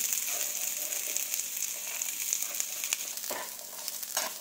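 Coriander seeds, coconut, onion and peanuts roasting in a pan give a steady close sizzle and hiss, with a few soft scrapes of stirring near the end and no talking.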